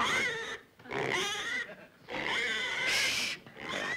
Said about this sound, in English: Come on, stop squealing.